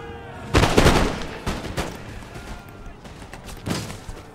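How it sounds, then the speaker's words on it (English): Artillery firing during a battle in the video game Empire Total War: three or four loud, separate booming cannon blasts in a row, each with a rumbling tail, over faint background battle noise. "Here comes the artillery."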